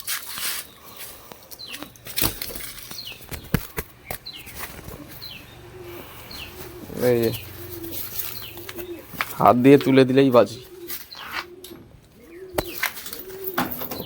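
A pigeon coos in two short, throaty bursts indoors, amid faint rustling and clicks, with a person talking nearby.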